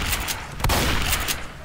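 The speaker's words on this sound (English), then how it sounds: "I'm liking this shotgun." Shotgun fire in Left 4 Dead 2, a close burst of gunfire with a sharp blast in the middle, heard amid dense game noise with no talking.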